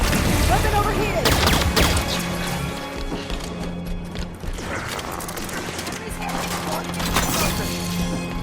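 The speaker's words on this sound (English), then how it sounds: "Opening fire. Weapon overheated!" Rapid bursts of gunfire and clattering weapon mechanisms in the video game Halo 5: Guardians, loud and dense at first and then sparser, with game voices over the combat.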